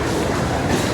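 Kaziranga Express, Up 13181 on the Kolkata to Rampurhat route, at a station platform, heard as a loud, steady, dense rail rumble that fills the whole moment without pause.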